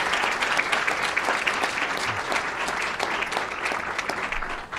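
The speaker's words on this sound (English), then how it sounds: "Let's give them another round of applause." Sustained applause from an audience at a school board meeting, a steady wash of clapping hands filling the room for about five seconds before tapering slightly at the end.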